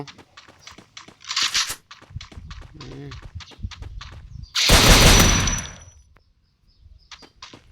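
Bursts of gunfire break out: rapid shots and clattering in the first half, then a loud dense burst followed by near silence and a few faint pops.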